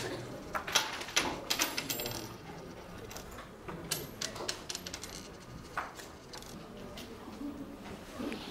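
Many students in a lecture hall toss coins onto desks, giving scattered bright metallic clinks and rattles that overlap irregularly across the room, with faint murmuring underneath.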